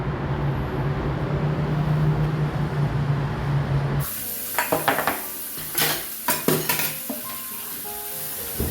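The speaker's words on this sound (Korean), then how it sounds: "설거지 끝" Dishwashing at a sink: steady running water for a few seconds, then clinking dishes, pots and cutlery knocking together in a series of close, sharp clatters, no talk.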